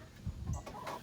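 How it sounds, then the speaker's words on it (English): A farmyard rooster gives a couple of short, close clucks in quick succession over a soft background hiss. "My rooster wants to be in the video."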